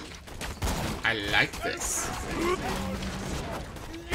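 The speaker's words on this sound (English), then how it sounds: "Oh, this gun's bullets explode after a time!" Exploding gun rounds in the video game Borderlands 2 go off in a quick burst of cracks and blasts mixed with game effects, while someone talks over them.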